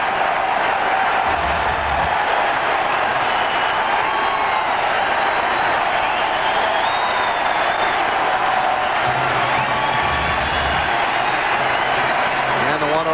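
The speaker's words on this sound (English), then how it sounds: "Crowd giving Hillenbrand an extended standing ovation." A baseball stadium crowd gives a long standing ovation during a 2002 Red Sox game, a loud, sustained roar of applause and cheering that fills the whole stretch.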